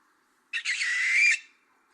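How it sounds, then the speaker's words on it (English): A barn owl gives one harsh, hissing screech lasting about a second, loud and raspy against an otherwise silent background. "This is the barn owl, okay?"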